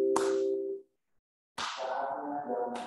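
Hand claps, two sharp claps at the start and middle, each followed by a brief ringing tail, separated by near silence, with no speech.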